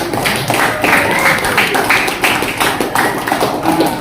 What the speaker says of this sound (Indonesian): beri aplaus dulu untuk teman-teman ya